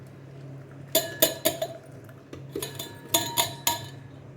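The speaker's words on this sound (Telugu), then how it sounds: "ఇప్పుడు స్ట్రైనర్తో వడగట్టేసుకుందాం" Blended pomegranate juice with vanilla ice cream being strained, heard as a run of sharp metallic clinks and taps of a spoon against a strainer and vessel in two quick bursts, close and otherwise quiet.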